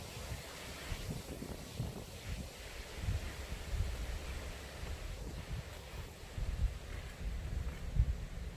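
Strong gusty wind blows outdoors in a seaside garden in Tongyeong, with low rumbling buffeting on the microphone that rises and falls steadily throughout, no voices present.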